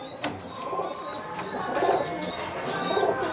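A green pigeon, a female of a home-bred line, coos softly in a pigeon loft, with a few low murmuring phrases over steady background noise.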